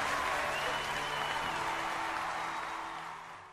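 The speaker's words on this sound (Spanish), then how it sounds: "¡Un aplauso a ese pinche video todo grande!" A crowd applauds in a soft, even wash of clapping that runs steadily and fades slightly toward the end, heard at a distance at low volume.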